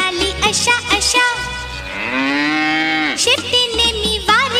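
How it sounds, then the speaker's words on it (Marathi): At a preschool annual day show, a loud, drawn-out cow moo rises and swells over a rhythmic musical backing, with shorter calls before and after it. "गाय म्हणाली अशा अशा शेपटीने मी वारीन माशा"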